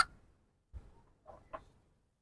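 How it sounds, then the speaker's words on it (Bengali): Sonali chickens in a cage give a few short, soft clucks with gaps between them, close to the microphone and fairly quiet, without any talking. "এখানে হচ্ছে সব সোনালী মুরগি।"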